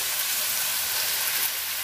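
Masala spice paste sizzles steadily in a hot pan, a continuous close hiss of frying with no pauses or voices.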